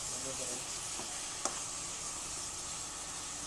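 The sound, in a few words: stirring fish curry with beans and tomatoes in pan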